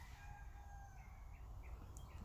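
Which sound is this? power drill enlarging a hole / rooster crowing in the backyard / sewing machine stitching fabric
rooster crowing in the backyard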